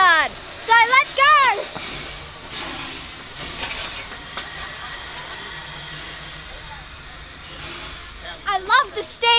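Puffing Billy steam train on a platform releasing a steady broadband hiss of steam through most of the stretch, with voices talking briefly at the start and again near the end.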